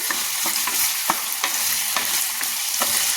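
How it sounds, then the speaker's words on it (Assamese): Chicken sizzles steadily in a hot pan, with regular scraping strokes of a spoon stirring it; no one speaks. "প্ৰথমতে মই মাংসখিনিয়ে ভাজি ল'ম"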